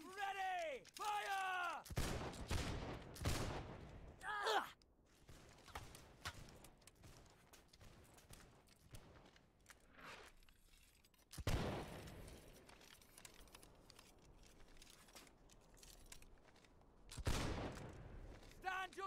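Musket volleys in the Napoleonic-era video game Holdfast: a shouted command is followed by a sharp, ragged burst of massed gunfire, then scattered shots and reloading clatter, with another heavy volley cracking out near the end.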